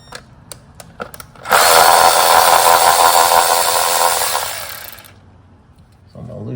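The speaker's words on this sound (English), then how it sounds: "I want to loosen up all these coil packs. So I'm just going to start here. This is a 10 millimeter." A tool works on the 10 mm coil pack bolts of a 2017 Hyundai Elantra: a few light clicks, then a loud, close, steady whirring buzz for about three seconds that tapers and fades.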